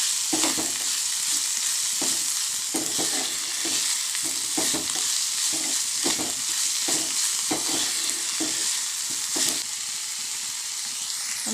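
A spatula stirs and tosses vegetable thoran frying in a pan, a steady sizzle broken by repeated scraping strokes in an uneven rhythm, close and fairly loud with no talk.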